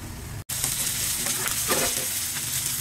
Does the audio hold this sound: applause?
no